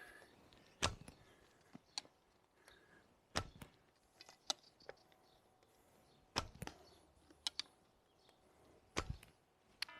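Arrows loosed from a bow using a medium three-finger draw, with the arrow rested on either side, each shot a sharp snap spaced a few seconds apart, near and loud against a quiet background.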